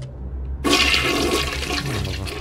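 A toilet flushes in BioShock Remastered, beginning abruptly after a short low hum with a loud gushing rush of water that swirls and gurgles steadily, close and alone without speech.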